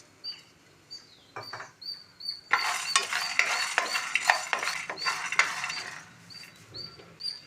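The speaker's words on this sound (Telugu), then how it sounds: "తర్వాత ధనియాలు కూడా యాడ్ చేసుకొని వీటిని కూడా లైట్గా ఫ్రై చేసుకుందాం." Coriander seeds fry lightly in a pan. Faint chirps come first, then a few seconds of soft crackling and scraping of a spoon against the pan, close and moderately quiet.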